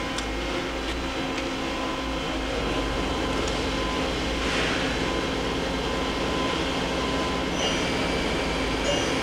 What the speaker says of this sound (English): Start by running the spindle.